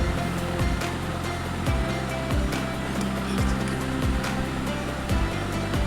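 A mixer grinder blends mango pieces into juice with no added water, a loud, steady motor whir with regular thumping pulses from the jar.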